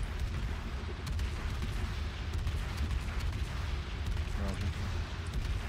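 Cruiser main guns on the Minotaur firing repeatedly in World of Warships, a dense stream of muffled booming salvos under a steady low battle rumble, with voices chatting faintly.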